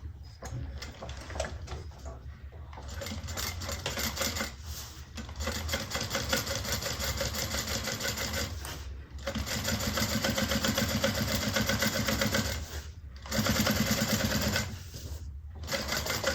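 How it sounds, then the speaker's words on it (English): A sewing machine top stitches through a bag lining an eighth of an inch from the seam, running in steady bursts of even, buzzing stitches with brief pauses between them, close and alone. "And then we're going to top stitch through the lining."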